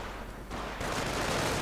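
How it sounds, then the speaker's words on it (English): Mortar fire in a World War II strategy game, a dense continuous barrage of blasts and gunfire that swells louder after the first half second and stays steady and close, with no talk. "Mortar firing away."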